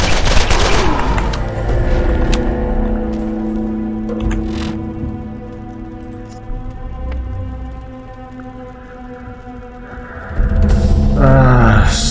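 Gunfire from a gun in the video game Borderlands sounds as a loud rapid burst at the start, then a few sharper isolated shots over a humming game background, with little talk.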